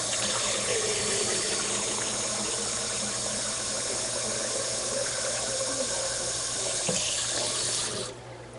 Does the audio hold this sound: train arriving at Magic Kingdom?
no